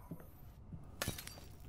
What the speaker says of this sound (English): Oh god, this glass is breaking.